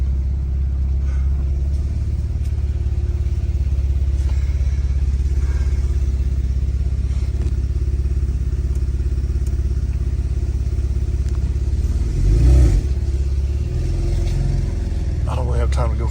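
A Porsche 991.2 Turbo S idles while warming up in a driveway, a constant deep rumble throughout with a brief louder swell near the end.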